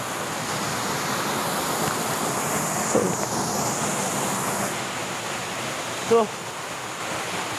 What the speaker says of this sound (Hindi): सो ये है दुधिया में जो कि देख सकते हो, बहुत ही खूबसूरत वाटरफॉल है।